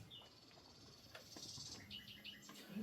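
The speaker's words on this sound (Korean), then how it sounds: "새소리가 참 좋게 하네." Birds chirp and tweet outdoors in brief high calls, fairly faint over a steady background hiss, with no talking.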